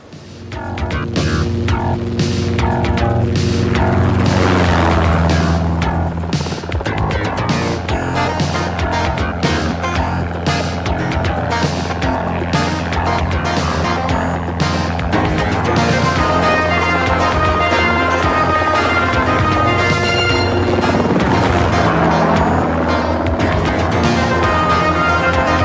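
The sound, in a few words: helicopter flying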